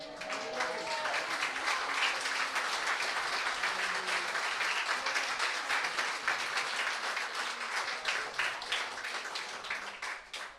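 A church congregation gives sustained, loud applause at a morning service, dense clapping filling the room for about ten seconds, with a few voices mixed in.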